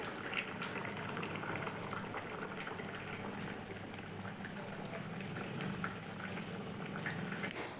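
Cowpea and potato curry simmers in a pot with a dense, steady bubbling close by. The low burble stays even throughout, with no voices over it.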